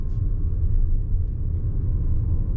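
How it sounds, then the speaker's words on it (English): Jeep engine idling just after starting, a low steady rumble close by with a brief faint click at the start, no talking. "There it goes. The engine turned on."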